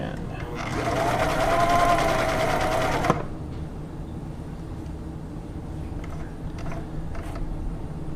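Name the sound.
Viking 6360 sewing machine sewing a plain blind hem stitch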